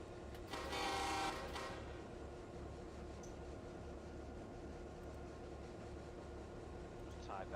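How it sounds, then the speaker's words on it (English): An intermodal freight train approaches in the Run8 train simulator on the Mojave Subdivision, a low rumbling drone with a brief loud horn blast near the start and faint tones later. "Here comes the intermodal."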